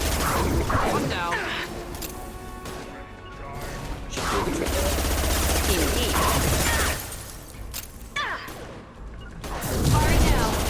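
Sustained bursts of gunfire and clattering impacts from combat in the video game Mass Effect 2, loud and dense throughout, with voices talking over the shooting.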